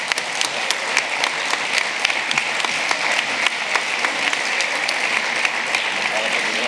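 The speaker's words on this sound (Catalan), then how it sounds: "Un fort aplaudiment." Sustained applause from an audience at a sports awards ceremony in Roquetes: dense, even clapping that holds steady for the whole stretch, fairly close and full without easing off.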